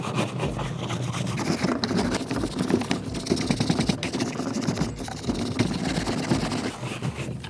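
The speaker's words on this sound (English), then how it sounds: "I'm gonna go ahead and scrub this down" Wet, dirty hand tools are scrubbed clean with quick, repeated rubbing strokes, a close and fairly soft rasping scrub that keeps an uneven rhythm throughout.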